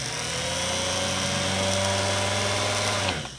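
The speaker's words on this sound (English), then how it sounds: "Let's just hear that motor one more time." Singer Model 328K sewing machine motor running steadily on its own with a sustained, even whine and low hum, close and loud, easing off right at the end.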